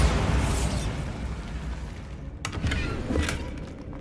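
A Bombarda explosion spell goes off in the wizarding game Hogwarts Legacy: a rumbling blast that decays, followed by a couple of sharper bursts and pops near the end. Fairly loud and close.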